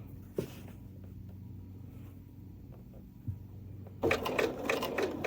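A sewing machine stitches down quilt binding in white thread, giving a steady low motor hum with faint needle ticks. Brief pauses break it before a louder, busier run of stitching near the end.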